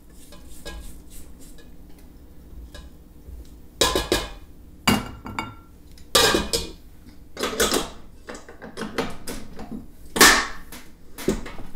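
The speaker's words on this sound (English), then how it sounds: "I'm going to scrape down the sides." A spatula scrapes down the sides of a mixer bowl of coffee cake batter, with a handful of louder knocks and scrapes against the bowl over a low mechanical hum and no talk.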